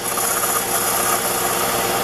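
The end of a wooden dowel is faced off on a small machine, a continuous close rasping, grinding cut running steadily throughout.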